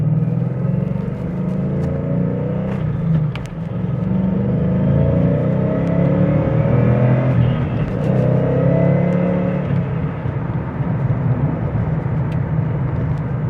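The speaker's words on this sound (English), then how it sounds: "Wait for this great big truck to go by." A big truck rumbles past close by at speed, its engine droning and building in a steady roar, with a few sharp clicks over the top.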